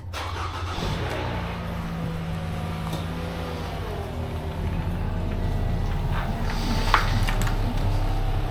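A car idles and rolls slowly backward out of a spot from gravel toward concrete, its engine a steady low rumble with a slight rise partway through, fairly close.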